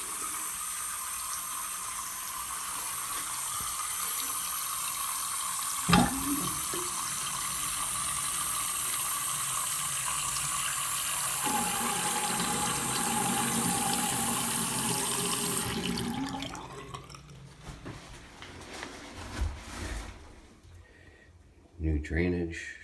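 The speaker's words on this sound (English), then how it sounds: "Everything is now complete, tested, and working properly with good drain flow." Water runs and drains through a newly installed sink with a new trap, shut-off valves and mechanical pop-up, a steady rushing flow for about fifteen seconds before it cuts off, followed by a few faint clunks.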